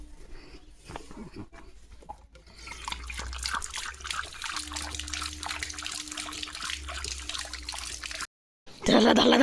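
A German Shepherd laps water in quick, wet, trickling slurps that build and keep going, briefly cut off near the end before a louder splashing burst.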